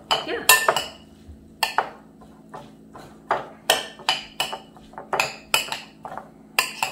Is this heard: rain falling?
no